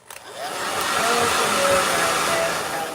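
A hair blow dryer whirs on, rising quickly to a steady, close, airy roar that holds for a few seconds with no talk over it.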